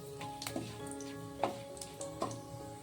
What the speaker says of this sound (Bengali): এবার ওই তেলে দিয়ে দেব ফোড়নের জন্য তেজপাতা ও গোটা জিরে।